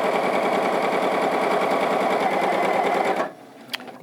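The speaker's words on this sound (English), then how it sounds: "So start sewing, then you can do a bit of a back stitch and then start sewing." A Baby Lock Allegro sewing machine stitches in a rapid, steady mechanical chatter at close range for about three seconds, then stops, followed by a faint click.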